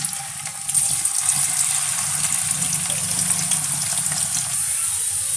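Water drained from cooked lentils pours steadily and loudly from close by, a continuous gushing splash with a faint hum beneath it, without any talking.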